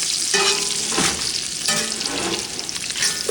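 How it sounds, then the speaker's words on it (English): Bacon and eggs fry in a cast iron pan on a camp stove at a campsite, giving a loud, close, continuous sizzle with stirring scrapes and crackling bursts throughout. "Cooking a little gourmet breakfast here of bacon and eggs"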